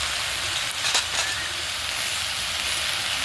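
Leafy greens sizzle and crackle steadily in a little oil in a pan, a continuous close hiss with brief louder bursts as they are stirred, and no voices.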